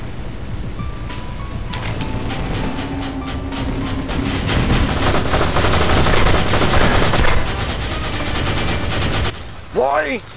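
Gunfire in the video game GoldenEye: Source, a dense rattle of rapid shots building through the middle, loud and near, mixed with game noise and a brief swooping effect at the end.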